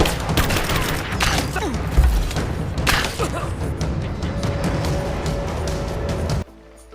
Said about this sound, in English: Give me some suppressive fire,